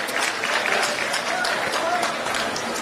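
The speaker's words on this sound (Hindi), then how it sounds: "एक बार जोरदार तालियां" Crowd applause at a political rally closing ceremony at Gandhi Maidan, Raipur, Chhattisgarh: dense, steady clapping from a large outdoor gathering, sustained throughout with crowd noise mixed in.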